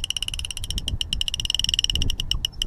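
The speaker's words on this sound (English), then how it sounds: "I'm leaving the clicker so you guys can hear him run" An Accurate fishing reel's clicker ratchets in a fast, steady stream of sharp clicks as a striped bass runs with the line, loud and close, with no talking.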